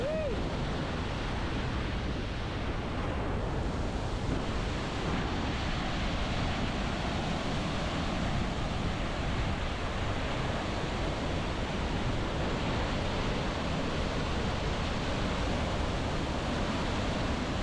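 Wapta Falls in the Canadian Rockies, with a steady roar of rushing water, close and loud, running unbroken throughout, and wind buffeting the camera mixed in with the constant spray.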